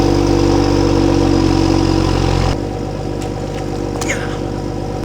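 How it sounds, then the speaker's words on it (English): BMW M340i engine idling on a driveway with a deep, steady rumble, loud and close, which drops abruptly to a quieter idle partway through, with faint clicks afterward. "I'm gonna pull the car up right here to the end of the driveway"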